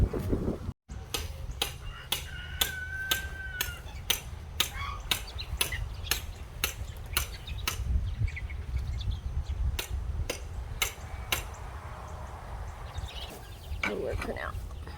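Rhythmic metal hammer strikes driving stakes into the ground to anchor chicken coops outdoors, a steady series of sharp, evenly spaced blows over a background of outdoor noise and occasional talk.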